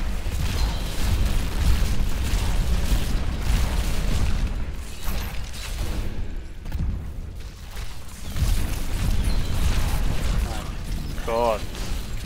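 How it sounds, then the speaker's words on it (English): Explosions in the video game Diablo III rumbling and booming continuously amid clanking, mechanical game effects, with someone talking over the action. "Shouldn't stay in that kind of explosions."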